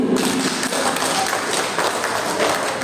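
An audience at a talk claps on cue, producing a continuous, fairly loud patter of hands with a few heavier thumps scattered through the short burst.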